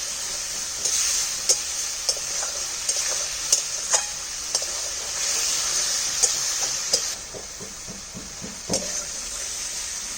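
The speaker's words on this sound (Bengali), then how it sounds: "আর লবণ দিয়ে দিলাম একটু চিনি আর অল্প জল দিয়ে এবার আমি কষিয়ে নেবো" Spice masala with salt, sugar and a little water fries in the pan for a pabda fish curry, a soft, steady sizzle under repeated clicks and scrapes of a spoon stirring, with no voices.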